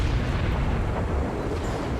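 The Nagato battleship in a naval combat game is destroyed by 18-inch shells, giving a heavy, rumbling explosion with sustained low booming that holds steady and loud throughout.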